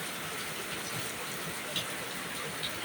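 Steady rain pours down outside a house with a leaking roof, a dense even hiss with a couple of brief drip-like ticks, heard alone at moderate distance.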